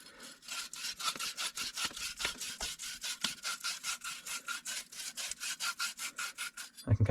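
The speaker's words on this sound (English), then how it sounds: "So now we've cleaned all of our ends of our pipes." Copper pipe ends being cleaned by hand before soldering, a steady run of rhythmic abrasive rubbing strokes, about four per second, close and fairly loud with no talking.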